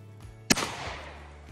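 A shotgun fires a single TSS turkey load while being sighted in with a Hawke turkey scope. The blast is loud and close, a sudden crack that rings out and decays over about a second outdoors.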